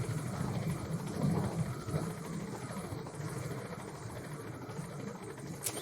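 Helicopter in the video game Metal Gear Solid V: The Phantom Pain, a steady low engine and rotor drone with a faint rumbling texture, continuous and moderately loud throughout.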